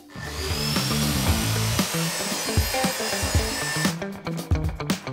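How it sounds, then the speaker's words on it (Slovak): A plunge saw runs continuously, grinding steadily through a wooden wall bracket before winding down into a few scattered knocks and clatters. "teraz ju rozdelím a použijem na to ponornú pílu"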